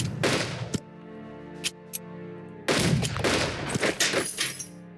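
Air attack bombing in the World War II strategy game Unity of Command 2: sharp bursts of explosive, rattling impacts in two loud clusters, with short isolated cracks between them and no talking.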